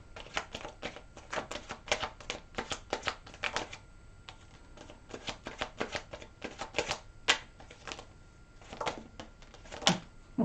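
Tarot cards shuffled and drawn by hand, a rapid run of crisp riffling flicks and slaps with short pauses between bursts, close and fairly quiet, with no talking.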